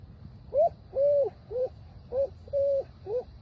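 A person imitates a ring-necked dove, voicing six hollow cooing notes in two groups of three, short and long hoots in a repeating pattern, close and clear over a low background rumble.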